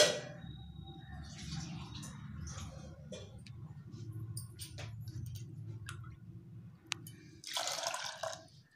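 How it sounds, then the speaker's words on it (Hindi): Water is poured from a bowl into a pressure cooker holding chana and urad dal for a dhaba-style dal fry: soft drips and small splashes, then a brief, louder rush of pouring near the end. "2 कटोरी भर के पानी डालेंगे।"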